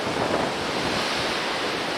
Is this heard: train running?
no